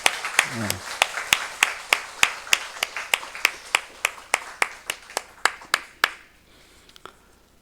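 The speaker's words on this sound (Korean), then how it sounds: "우리 박수로 한번 위로하고 축복하겠습니다." A church congregation claps in unison during a livestreamed service, about twenty crisp, evenly spaced claps in a steady rhythm that thin out and stop, with a brief voice at the start.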